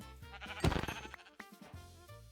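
A single sheep bleat from Minecraft with the Cobblemon mod, a short wavering call that trails off quietly.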